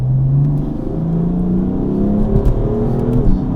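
A 520 bhp tuned BMW M4 accelerates hard in third gear from about 20 mph, its engine note rising steadily in a loud, continuous in-cabin roar with slight gear whine.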